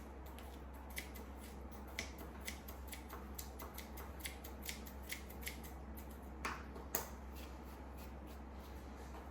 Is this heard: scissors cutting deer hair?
yes